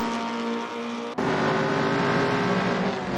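A Ford Cortina and a Mini race each other in Assetto Corsa during a British Saloon Car Championship round, a loud steady engine drone that cuts with a gear-change break, then pulls hard again at close range.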